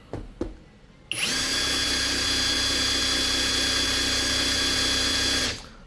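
A cordless brushless impact wrench runs in low mode, a steady high-pitched motor whine that starts after a couple of faint clicks, holds evenly for about four seconds, then winds down.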